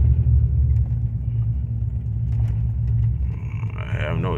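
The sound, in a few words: lifted Toyota Tundra truck driving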